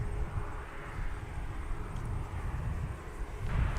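An airliner taking off from runway 30 right at Minneapolis–St. Paul Airport, a steady broad jet roar that holds through the whole stretch, rising slightly near the end.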